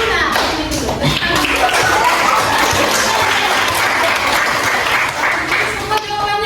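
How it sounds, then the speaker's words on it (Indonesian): Students in a microteaching classroom burst into steady, dense applause that carries on loud and close for several seconds, with children's voices chattering underneath. "berikan tepuk tangan dong"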